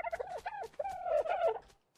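Dodo call from the game ARK: Survival Evolved, a run of loud gobbling, turkey-like warbles close up that sound alone and trail off into quiet at the end.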